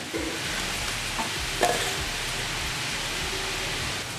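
Wheat-flour namak pare fry in oil over a medium flame, giving an even, rain-like crackling hiss with a single brief clink partway through, close and moderately loud.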